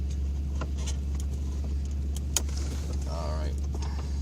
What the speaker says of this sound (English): The thing idles super low.